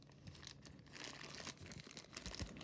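Quiet crinkling and tearing of Roblox blind box packaging being cut open, with soft irregular rustles and small crunches close by, no talk.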